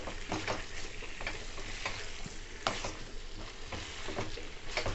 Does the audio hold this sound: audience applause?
no